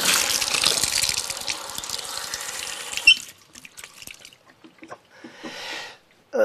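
Mountain spring water from a Moravian-Silesian highland spring gushes steadily for about three seconds, then cuts off, leaving only faint trickles and drips.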